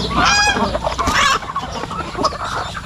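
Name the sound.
ducks being fed at a farm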